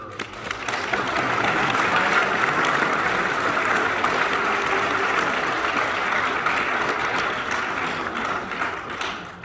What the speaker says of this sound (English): round of applause from the audience